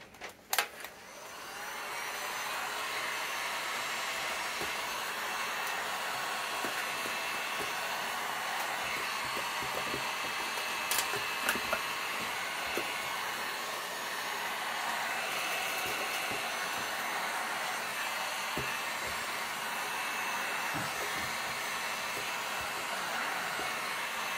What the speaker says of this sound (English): you're going to go back with your heat gun and seal them